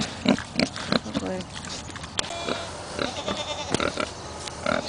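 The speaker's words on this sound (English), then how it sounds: "What do you think of the pig?" A pig grunts and snorts repeatedly up close in a livestock pen, with sheep, goats and a person speaking faintly in the background.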